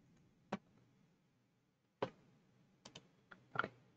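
Computer keyboard keys are typed in brief bursts: a single click, a pause, another click, then a quicker cluster of several keystrokes, close and fairly quiet in an otherwise silent room.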